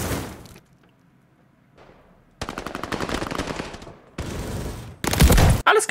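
A new weapon in a video game fires in loud, close bursts of rapid automatic gunfire, separated by short pauses and ending in one final sharp shot.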